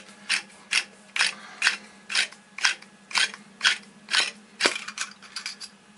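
Generic diverter valves being opened up for inspection, giving a series of crisp mechanical clicks and ratcheting snaps at a steady rhythm, close and alone, with a cluster of quicker clicks near the end.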